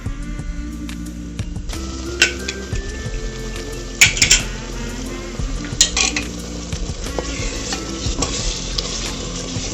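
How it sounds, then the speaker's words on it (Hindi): Masala spices with coriander powder, chili, turmeric and salt sizzle steadily in a pan, with close, repeated stirring scrapes and occasional clinks of a spoon against the metal. "मसाला हमारा भून चुका है।"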